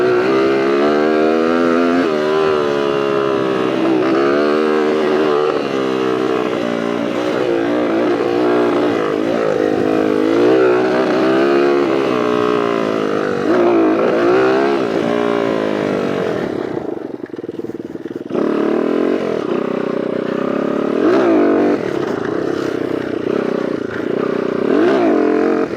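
A Honda CR80 two-stroke dirt bike engine runs at Lake El Reno, loud and close with a raspy buzzing drone. Its pitch wavers up and down through a stumbling mid-throttle transition, and a short dip comes near the end.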